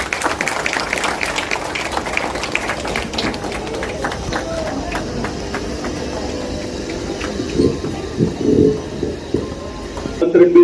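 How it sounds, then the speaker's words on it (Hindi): Loud applause from a crowd at a charitable trust's kalash yatra gathering before a musical Bhagwat katha, a broad clapping wash at the start that thins out, with voices and rumbling noise underneath toward the end. "मेरा जोरदार तालियां बजाइए।"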